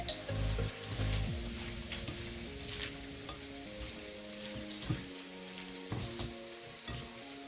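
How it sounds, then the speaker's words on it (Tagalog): Garlic sautéing in a wok until golden brown, a steady close sizzle and crackle of hot oil with occasional stirring scrapes and clinks, no voices. "Saute it until golden brown"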